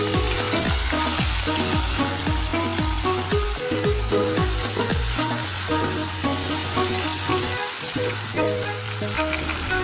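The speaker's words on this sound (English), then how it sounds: "Then add 1 kilogram of chicken and mix until well combined." One kilogram of chicken being fried and stirred in a pan with ginger for biryani, a loud continuous sizzle broken by repeated scraping strokes of the spoon, close up with no talking.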